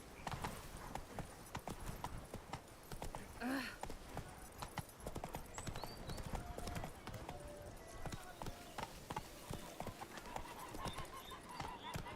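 Roach the horse trots through woods in The Witcher 3, hooves clip-clopping in a quick steady rhythm close by for the whole stretch, with ambient game sound around.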